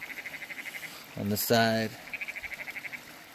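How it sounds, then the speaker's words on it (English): Frog croaking outdoors in the Arizona desert, a steady rapid pulsed call in the background that pauses while someone speaks close by and then resumes. "Got a frog making noise in the background."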